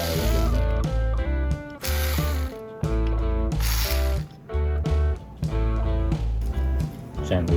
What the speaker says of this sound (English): Make sure you break all of the nuts loose in sequence before unscrewing all of them.